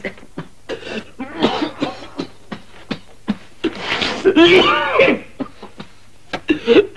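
A man in a 1962 Afrikaans comedy film coughs in a string of sharp, loud bursts and hacks, with strained vocal sounds mixed in, alone and close.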